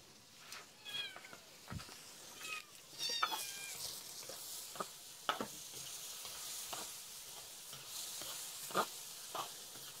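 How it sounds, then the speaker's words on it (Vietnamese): A cat meows several times in short, high calls over the steady sizzle of meat frying nearby. "Mèo chắc người thấy mùi thịt thơm quá cho nên là kêu"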